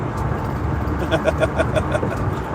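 Highway traffic on eastbound I-10 rolls past as a steady low road rumble with engine drone, with a few rhythmic thumps or tire beats in the middle of the stretch.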